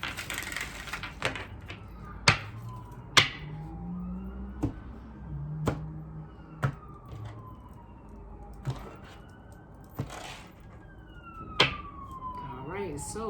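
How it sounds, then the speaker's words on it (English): A siren wails at a distance, its tone sweeping slowly up and down, while sharp clicks and knocks pop up nearby at irregular moments. "apologize for the sirens"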